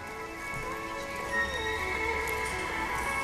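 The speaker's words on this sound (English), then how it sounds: "jog your horse, please" Horses jogging in a riding session, a soft, faint clip-clop of hooves under a steady background hum, with a slight swell midway.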